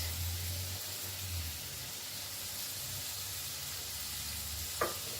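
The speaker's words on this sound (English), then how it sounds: "here's my green pepper that I'm throwing in next" Green pepper sizzles in a pot with meat, a steady close hiss of frying over a low hum, ending in a single brief clink of a utensil, no talking.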